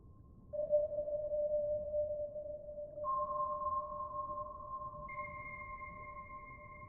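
An animation sound effect drenched in heavy reverb: three clean, sustained electronic tones enter one after another, each stepping higher and ringing on together over a faint low hiss, quiet and with no voices.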